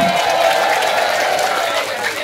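An audience at a lively Indonesian religious sermon bursts into applause, a dense, loud, continuous roar of clapping and crowd noise up close that fades slightly at the end.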